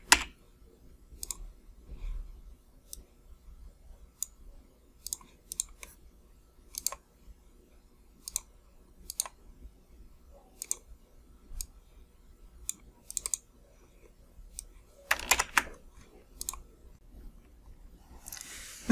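Light, sparse clicks of computer keyboard keys, a few isolated taps spread out with a short burst near the end, as Alt code 0176 is typed; quiet room, no talking.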